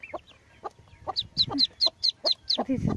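A hen makes a series of close, soft clucks among her hatched Muscovy ducklings, whose high, repeated peeping calls come in quick, regular bursts throughout.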